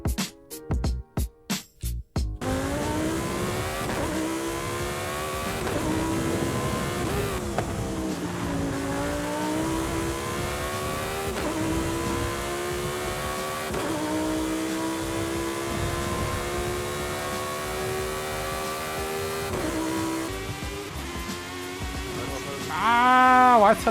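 A 2022 Aston Martin Valkyrie AMR Pro in Forza Horizon 5 opens with a few sharp clicks. Its engine then screams through long rising revs, dipping briefly at each gear change, loud and continuous, with a final climbing whine.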